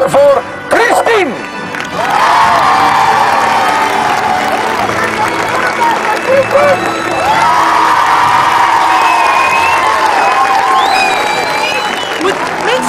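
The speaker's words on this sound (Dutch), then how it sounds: "Mag ik een fantastisch applaus voor Christine!" A large crowd at an outdoor event cheers and applauds for a woman, loud sustained clapping with whoops and high shouting voices rising over it, ebbing briefly before surging again.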